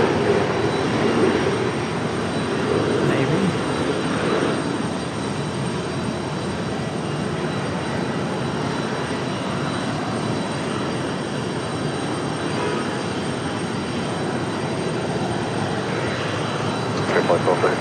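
Delta jet airliner at Raleigh-Durham airport, a loud, broad engine roar holding steady throughout with a faint whine on top.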